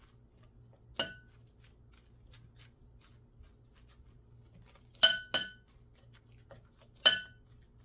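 Glass bowl and utensils clinking while chicken drumstick ingredients are mixed together, three or four sharp knocks spaced over a quiet background.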